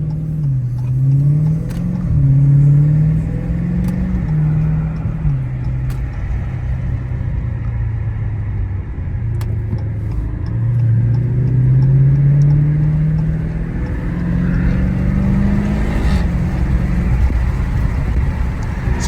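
A Dodge Charger Scat Pack heard from inside while it accelerates through city traffic, its engine droning loudly with repeated rising and falling revs as it speeds up and backs off.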